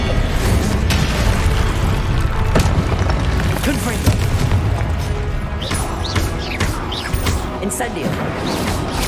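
Explosive Confringo spell blasts cast in Hogwarts Legacy, a fantasy wizarding game, going off again and again in a loud, continuous clamor of booms and crashes with no gaps between them.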